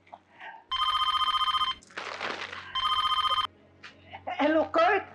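A cellphone rings in a Filipino legal drama. Two loud, electronic ringing bursts are separated by a breathy noise, and voices speak before and after the rings.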